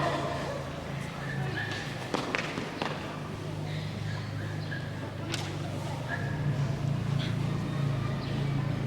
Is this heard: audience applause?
no